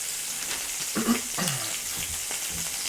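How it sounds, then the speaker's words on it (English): Meatballs frying in a pan for Sunday gravy give a steady, even sizzle that crackles continuously throughout, close up, with a couple of faint bumps and no talking. "Hopefully with the mic, you're picking up that sizzle."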